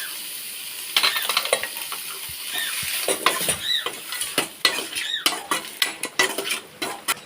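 Tomatoes and tamarind sauté in a pan with a spoon scraping and stirring, sending out repeated clinks and scrapes over a continuous sizzle, close up and without talk.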